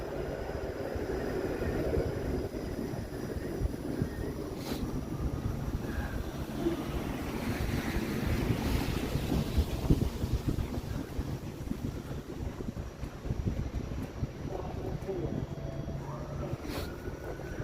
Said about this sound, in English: the wind feels colder walking in this direction